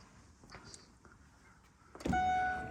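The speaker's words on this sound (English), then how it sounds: "And then we can close the boot from here." Powered tailgate of a Mercedes-Benz GLA 200 AMG Line closing, with a steady electric motor whine building near the end after a quiet stretch of faint handling noises.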